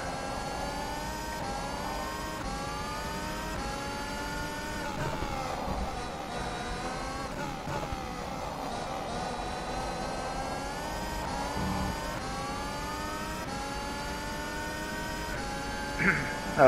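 A simulated 2020 Formula 1 car engine in rFactor 2 whines at high revs around Zandvoort, holding a steady buzzing tone that dips and climbs with gear changes, fairly quiet and continuous.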